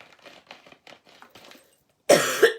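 Dry-throated coughing from someone speaking at a live talk, a few loud, close harsh coughs arriving after a stretch of her quieter speech.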